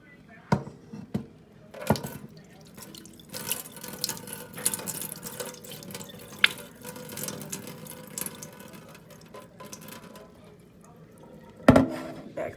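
Tap water running into a sink while rice is rinsed, a steady faint wash with scattered clatters and splashes throughout and a sharper knock near the end.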